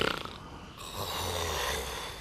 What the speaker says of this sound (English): Now, do you believe me about his snoring?